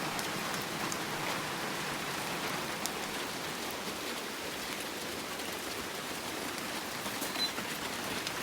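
Rain drumming on a corrugated zinc roof in a rural Lao rubber-tapping setting, a steady, dense hiss of countless drops with no pauses and no voices.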